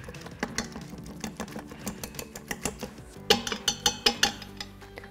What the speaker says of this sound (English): we're gonna mash it just a little bit